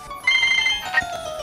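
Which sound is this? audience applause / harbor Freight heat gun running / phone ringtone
phone ringtone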